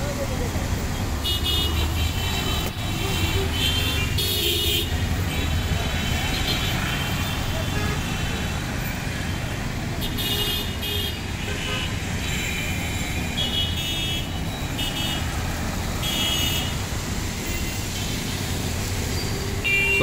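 Dense, steady road traffic on the 60-foot road at Agargaon–Mirpur in Dhaka, cars and motorbikes rumbling past continuously with scattered horn toots, loud and close throughout.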